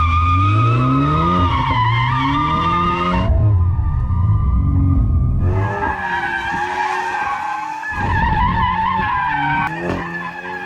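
A VW Mk8 Golf R in drift mode doing donuts, its tires squealing loudly and its engine revving, with sweeping rises and falls of pitch and brief breaks between bursts.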